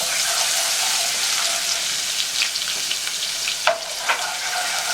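Two big spoonfuls of garlic sizzle steadily in hot oil for koshari tomato sauce, a dense close frying hiss with a few sharper crackles and spoon stirs near the end.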